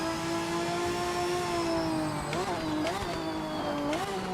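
A race car engine in the video game Project Motor Racing drones at a steady high pitch, with a few quick revs near the end; the sound is continuous and moderately loud.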